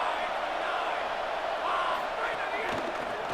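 Steady, dense stadium crowd roar from a College Football 27 game, Pittsburgh hosting FSU with the opponent pinned deep in its own end, a continuous broadband wash of cheering that holds level throughout with no clear individual voices.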